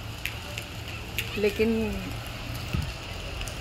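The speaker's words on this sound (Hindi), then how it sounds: "अभी तो खैर बारिश बिल्कुल कम है, बिल्कुल हल्की हल्की बूंदाबांदी हो रही है।" Light monsoon drizzle falls in Karachi, a soft continuous patter with scattered faint ticks, and a person briefly speaks over it.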